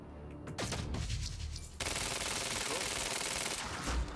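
Sustained automatic gunfire in the Quantum Break video game, a dense rapid burst after a brief lull, loud and continuous for several seconds with no talking.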